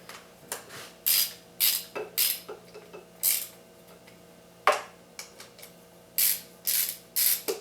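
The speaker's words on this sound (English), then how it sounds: "So I just have my little ratchet right here with a 12 mil" A ratchet with a 12 mm socket removes the power steering pump bolts on a Subaru WRX engine, making repeated close, crisp bursts of rapid clicking with short pauses between strokes, no talking.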